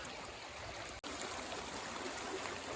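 Steady broadband rush of flowing creek water, widening and fuller downstream, continuous and fairly close, with a brief dropout partway through.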